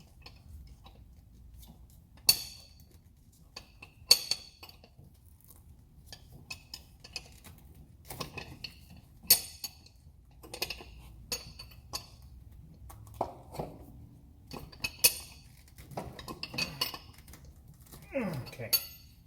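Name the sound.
wrench turning a car air suspension air bag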